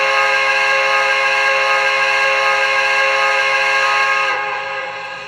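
A quilling steam whistle on an MTH Premier B&O Heavy Pacific model train blows continuously with a rich, multi-toned chord, loud and steady, then cuts off abruptly near the end.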